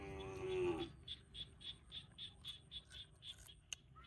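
Cows and buffalo in the countryside: one low, drawn-out moo that slides down in pitch opens the moment, then a faint, evenly pulsing chorus of frogs or insects carries on alone.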